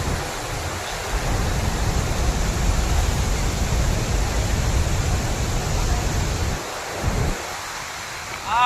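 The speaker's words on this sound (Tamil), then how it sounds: "Finally, the falls near." Athirapally waterfall roars as a continuous, loud wash of falling water heard from nearby, a broad steady rush that barely varies, with brief moments of voices and movement at the edges.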